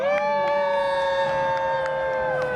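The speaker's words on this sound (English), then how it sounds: "Raise a cheer for all of our heroes!" Cheering crowd at a Medieval Times dinner show, a loud sustained roar of voices with a rising, siren-like tonal wail running steadily through it.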